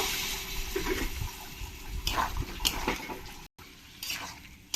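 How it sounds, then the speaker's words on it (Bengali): Mushrooms being stirred in a pan with just a splash of water, giving wet scraping and sloshing strokes and light clinks of a spoon against the pan, close and fairly loud with no talking. "খুব সামান্য একটু জল দিয়ে আমি মাশরুমটাকে ভালো করে কষিয়ে নেব"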